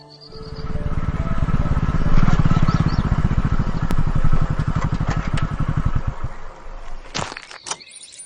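A motorcycle starts up and revs with a rapid, close, throbbing engine note for several seconds before pulling away. Its sound fades, leaving a few clattering knocks at the end.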